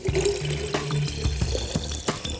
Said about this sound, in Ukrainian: Я додам води